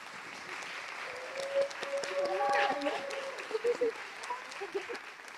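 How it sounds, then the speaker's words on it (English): Audience applause at an evening event honoring an artist: a steady round of clapping fills the room while voices speak over it. "Please join me in another round of applause."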